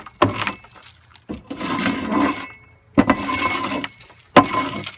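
Loose debris is scraped out of chicken coop trays in several short, gritty strokes separated by pauses, close and moderately loud.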